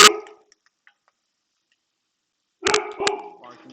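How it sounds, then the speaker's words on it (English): Miso the dog barks indoors in a kitchen: one sharp bark, a long silence, then a quick pair of barks close by, with a voice speaking around them. "barking at someone."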